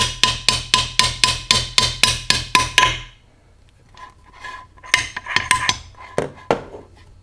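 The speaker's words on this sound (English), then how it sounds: "take the reverse idler shaft and just drop it in place and catch it" A steel reverse idler shaft dropped into a Jeep T176 Tremec four-speed toploader transmission case, heard as a quick run of sharp, evenly spaced metallic clanks, then a pause and a looser cluster of lighter metal clinks and taps, close and clear.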